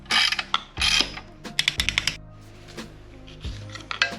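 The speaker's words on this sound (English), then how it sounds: "So I'm gonna snug them down and then tighten them down." A ratchet working close and loud as engine bolts on an Integra B18 engine are snugged down during a Civic engine swap, with bursts of rapid clicking and metallic clanks between pauses.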